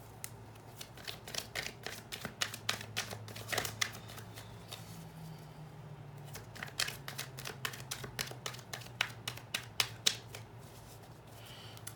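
Tarot cards are shuffled by hand in a steady series of crisp, rapid riffling snaps and flutters, close and fairly quiet, with no talking over them.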